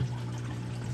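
Water pours out of a reef aquarium tank, a steady close gush and splash running for about a second with no talking.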